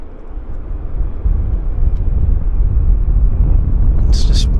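A Boeing 737 Max airliner taxiing at Vancouver Airport, a steady loud low engine rumble heard close with a faint high whine, and a brief sharp high sound near the end.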